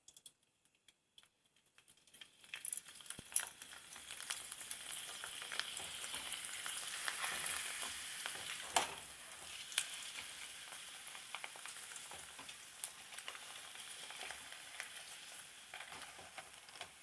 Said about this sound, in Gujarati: તો ફ્રેન્ડ્સ જો આપણે તેલ ગરમ થઈ ગયું અને હવે તળી લઈએ